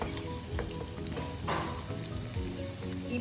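Steady, dense sizzle of frying in ghee (clarified butter) for sweet pongal, with occasional spoon stirs and pops, continuous and close with no talking.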